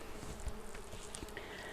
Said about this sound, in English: The bees are pretty crazy this time of year.